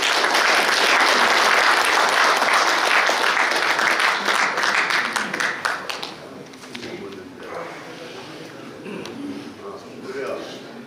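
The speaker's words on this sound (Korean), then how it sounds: "박수로 환영해 주십시오." A large audience at a formal Korean veterans' association ceremony applauds to welcome a speaker: dense, loud, sustained clapping that fades over several seconds into scattered claps and room murmur.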